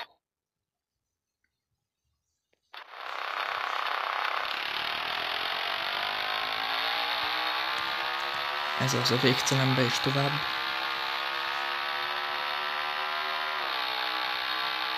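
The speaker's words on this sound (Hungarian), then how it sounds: "Teljesen jó az a motor hang," In the Traffic Rider mobile game, a KF 450 motorcycle's engine kicks in after a quiet start and holds a steady, buzzy drone, with a brief burst of extra rattling partway through, while someone talks over it.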